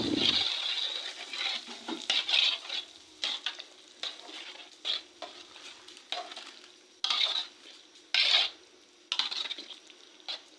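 Garlic tempering for chicken khichuri, a close spoon scraping and clinking in a pot over a faint sizzle, in irregular bursts separated by quieter gaps.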